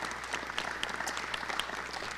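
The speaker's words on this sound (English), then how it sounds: "Let's give them a big round of applause." Audience applause at a corporate wellness event in Little Rock, a steady wash of clapping hands filling the whole stretch with no voices over it.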